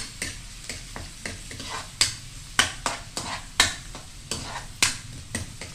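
Pork liempo browns in a frying pan with a steady sizzle, broken by regular scraping stirs of a spatula that land about every half second, close and fairly quiet.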